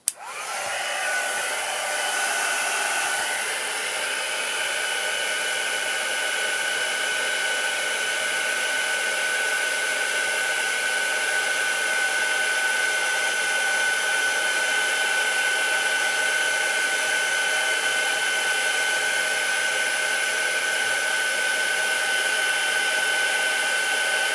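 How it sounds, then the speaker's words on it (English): A heat tool blows hot air to melt embossing powder on a stamped card image, a steady loud whirring drone that starts at once and runs unbroken throughout. "I'm going to heat up my stamped image with a heat tool."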